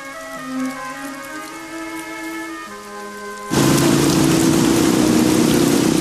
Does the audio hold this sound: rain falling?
yes